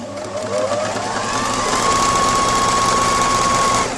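A sewing machine back stitching with the thread tension set to 9 runs as one loud, close, continuous whir that rises slightly in pitch and holds steady for several seconds.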